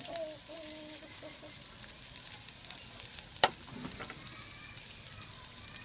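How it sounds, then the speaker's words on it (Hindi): Carrots and capsicum stir-fried lightly for veg noodles, with a soft, steady sizzle, faint and continuous, broken by one sharp clink of a utensil midway and a few faint voice-like tones early on. "और भून लेंगे हल्का सा"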